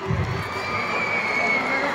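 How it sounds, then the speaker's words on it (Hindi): A large crowd at a school Children's Day event cheers and shouts in a steady, loud wash of voices, with a few higher yells standing out; clapping blends into the noise. "Aurobindo House वाले तालियां बजाएं अपने हाउस के लिए"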